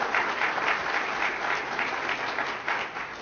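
A cheering section applauds at a festival announcement event, a dense, sustained burst of many hands clapping close by, steady throughout with no voices on top.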